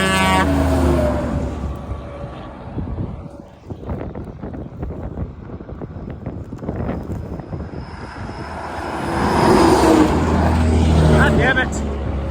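A Peterbilt truck passing on the I-10 highway, a loud engine roar that dips and then swells again as it goes by, with voices talking throughout.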